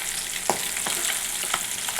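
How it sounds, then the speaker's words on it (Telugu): Bochcha fish frying in oil in a pan until golden, a steady bright sizzle with a few sharp crackles and spatters, close and alone with no talking. "ఇందులో ఆయిల్ వేసుకొని బాగా మంచి గోల్డెన్ కలరు వచ్చే వరకు చేపని బాగా వేయించుకోండి."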